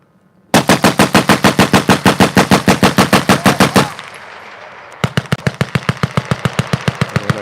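Vickers machine guns fire 100 rounds at normal rate: one long, evenly paced burst of loud, sharp shots, a brief pause, then a second steady burst that sounds slightly farther off.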